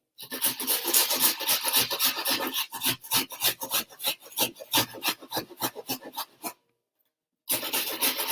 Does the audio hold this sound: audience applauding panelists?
no